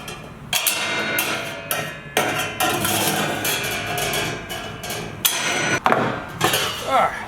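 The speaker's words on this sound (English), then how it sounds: "Let's actually trim the tips right now. Cut these little tips off." Metal tips are cut off a fan blade ride cymbal, a dense run of harsh scraping and snipping with sharp metallic clanks and ringing, close and continuous for several seconds.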